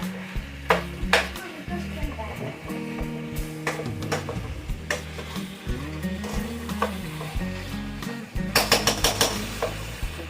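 Ground meat frying in a pan at home, with a steady sizzle and occasional stirring scrapes and utensil clinks, close and moderately loud, with a few brief louder bursts near the end.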